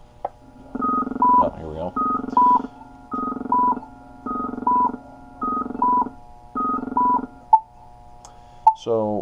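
Pedestrian crossing pushbuttons, Polara Navigator EN2, emitting electronic beeping tones in repeated bursts, six evenly spaced chirping pulses, then a couple of short clicks and a rising tone at the end.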